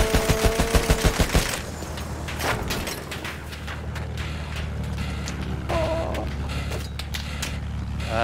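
Battlefield 1 gunfire opens with a rapid burst of evenly spaced machine-gun shots, then gives way to a dense, continuous rumble of battle noise with scattered distant shots and engine drone.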